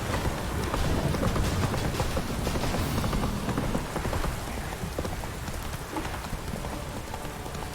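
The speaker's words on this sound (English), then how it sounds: "This downpour's a bastard," Heavy rain falls in The Witcher 3: Wild Hunt as a dense, steady downpour that stays loud and even throughout, with no voices over it.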